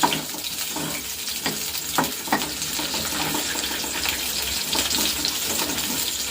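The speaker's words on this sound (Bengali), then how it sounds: "সাদা তেলের মধ্যে এখন পেঁয়াজটা ভেজে নিচ্ছি আর কি" Onion fries in white cooking oil with a steady, bright sizzle close up, accompanied by a few clinks and stirring knocks of a utensil early on.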